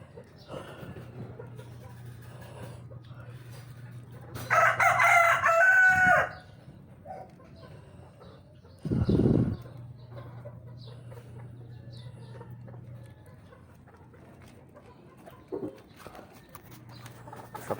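A rooster crows loudly on a backyard farm checked after a typhoon, with a longer crow and a short second call over a steady low hum, and no voices.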